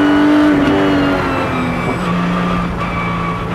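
A Lotus Cup R race car engine pulls hard, a loud, close, raw drone whose pitch climbs and drops through gear changes with no pause.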